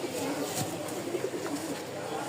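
Rajshahi Giribaz pigeons cooing softly in a steady background murmur, with low repeated coos and faint chirps under a constant ambient hiss.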